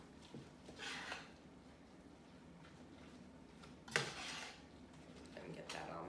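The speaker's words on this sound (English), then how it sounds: "Let me get that all mixed up." Spinach and feta pie filling with eggs is stirred in a bowl, with scraping, clinking utensil strokes against the bowl, some sharper knocks, and faint voice in the background.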